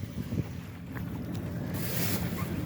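Sun Odyssey 35 sailboat motoring on its engine in a flat calm, a steady low engine drone mixed with water wash and a rise of wind noise on the microphone toward the end, with no talk.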